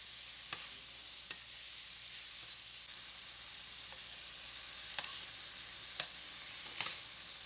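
Seasoned chicken pieces frying in a pan for a chicken pot pie, a steady close hiss of sizzling oil with a few sharp pops and utensil clicks scattered through, no voices.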